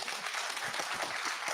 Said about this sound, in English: can we have a round of applause for Doctor?